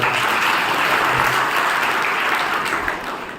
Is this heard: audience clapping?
yes